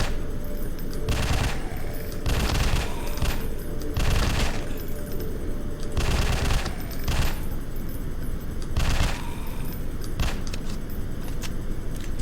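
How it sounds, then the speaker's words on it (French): Gunfire in a zombie apocalypse video game: repeated bursts of rapid automatic shots, each lasting about a second, loud and close over a constant background rumble, with short gaps between the bursts. "Ça part vite les balles."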